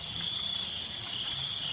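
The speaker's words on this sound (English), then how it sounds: "The crickets are chirping." Crickets chirp in a steady, continuous high-pitched trill, a constant insect drone with no pauses and nothing else heard.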